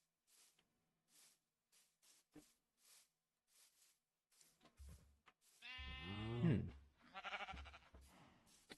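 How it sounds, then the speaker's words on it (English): Sheep bleat in a farming video game, a drawn-out wavering bleat rising over faint clicks and footsteps, followed by someone talking. "this area over here has a lot of sheep and things"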